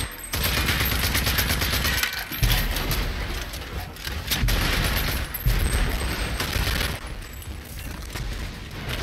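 Rapid bursts of gunfire and explosions from the video game Rage 2, with gas stations being blown up, crackle continuously, loud and dense, with a few heavier booms standing out.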